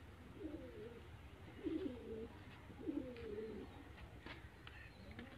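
A pigeon of a breed native to Sheikhupura district, Pakistan, coos softly three times in low, rolling phrases against a quiet background hum, fairly close but faint.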